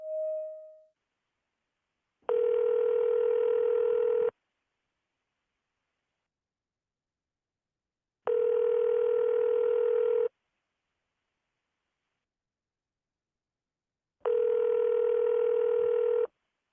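Ringback tone of an outgoing phone call: three steady two-second electronic rings spaced about four seconds apart, loud and clean against silence, with no talking.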